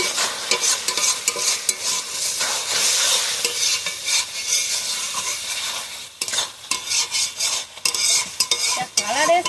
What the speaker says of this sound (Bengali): গরম মশলা গুঁড়ো দিয়ে ভালোভাবে নাড়িয়ে নেবো